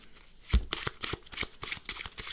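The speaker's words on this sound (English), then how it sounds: "Do some false cuts, false shuffles, anything you want." Playing cards being shuffled and riffled up close, a quick series of crisp flicks and snaps in a steady, brisk rhythm.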